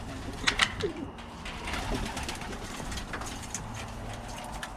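Birmingham Roller pigeons coo in an indoor loft, soft low murmuring calls running steadily under a busy ambient background, with a few brighter chirps near the start.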